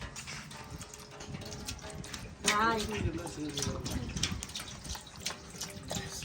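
Cooking oil is poured into a heated pot for a 10 kg mutton biryani, giving a steady splashing pour with a rising hiss, while voices talk nearby.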